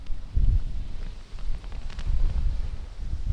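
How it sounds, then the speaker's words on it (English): Strong wind gusting across the microphone beside Salt Springs reservoir, a small lake, with low rumbling buffeting that rises and falls in loud surges throughout and no other clear sounds. "it is windier than windy wind"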